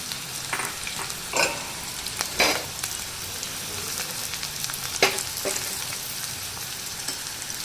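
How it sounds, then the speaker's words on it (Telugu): Onions with garam masala fry in hot oil, giving a steady close sizzle broken by several scraping stirs of a spatula in the pan. "ఇప్పుడు దీంట్లోకి మనము ఆనియన్స్ వేసుకుందాము"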